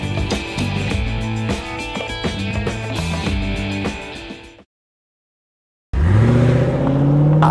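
A Land Rover Discovery Sport engine note rises in pitch like an accelerating rev after a short silence, preceded by a loud, busy stretch of music-like sound.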